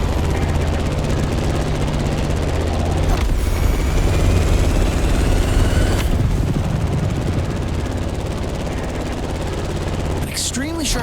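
Propeller plane engine in The Crew Motorfest video game, a steady loud droning hum with low tonal harmonics running throughout, with brief whooshing sweeps and a short rising whine near the end; a voice talks over it.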